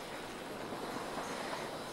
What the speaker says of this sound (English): slowing the heavy train gently